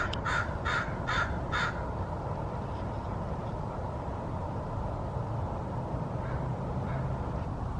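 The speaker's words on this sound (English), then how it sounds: "Speaking of the Crow, there's one right there." A crow caws four times in quick succession, loud and fairly close, followed by fainter distant caws over a steady outdoor rumble at a cemetery.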